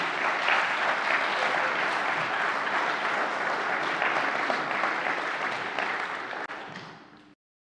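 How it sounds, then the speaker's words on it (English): An audience at a political speech on Scotland's right to decide applauds steadily, a dense wash of clapping that fades out near the end. "the applause is welcome, but it's slowing"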